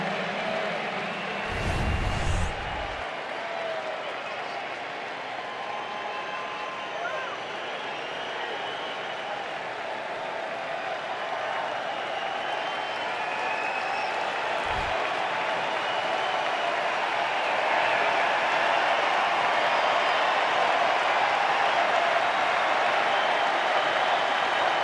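Loud, sustained crowd roar at a Reds versus Phillies baseball game in a stadium, a broad steady wash of cheering that swells slightly toward the end, with a brief thump near the start.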